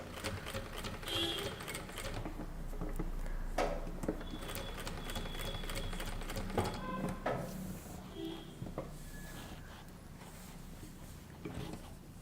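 A sewing machine top-stitching a kurta runs in a steady, fairly quiet mechanical whir for several seconds, with brief stops and light clicks and taps around it.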